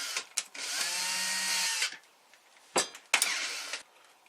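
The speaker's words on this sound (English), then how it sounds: "We're gonna drill some holes." A power drill boring holes while building a cutter from a plastic bottle, with one sustained whining run lasting over a second, then a few short bursts and clicks, loud and close.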